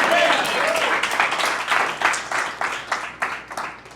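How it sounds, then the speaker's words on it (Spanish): Church congregation applauding during a sermon, dense clapping that thins into separate rhythmic claps toward the end, with a voice speaking over the start. "Si va a aplaudir, aplauda con ganas en el nombre del Señor."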